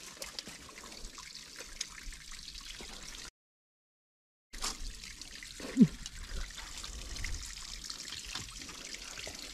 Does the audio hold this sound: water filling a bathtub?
yes